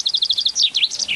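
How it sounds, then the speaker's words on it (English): A young male chaffinch sings a quick run of high, clear repeated chirps followed by rising and falling sweeping notes, close and loud against a quiet background. "We work on birdsong a lot, and if you look at it in more detail, as we have done, this is a young chaffinch male."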